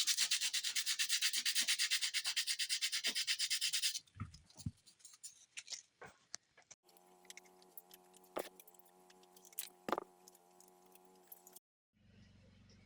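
A guitar pickguard surface is sanded flat with steady rhythmic rubbing strokes, followed by scattered scrapes and taps and then a quieter stretch.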